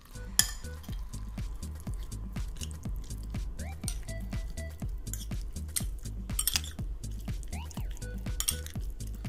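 A utensil stirring a shrimp biryani mixture in a pot, rhythmic repeated scraping and soft knocks close by, with occasional metallic clinks.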